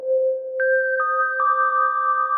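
Serum 2 synth on its Entropy preset with reverb, playing clean sine-like tones that step through several sustained notes, each new note starting with a soft attack and layering over a held lower tone.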